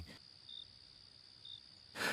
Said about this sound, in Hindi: सिर्फ कहीं दूर से कुत्तों के भौंकने और झींगुरों की आवाजें सुनाई दे रही थीं।